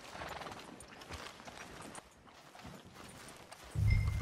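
Horse hooves clip-clop along a street in the video game Red Dead Redemption 2, a steady walking rhythm with a brief whinny-like burst near the end, all amid ambient game sound.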